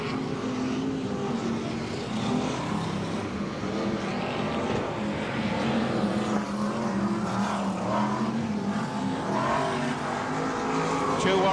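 BriSCA F1 stock cars race around the track at a 2000 World Semi-Final, a dense, continuous roar of engines with no let-up, while a commentator talks over the noise.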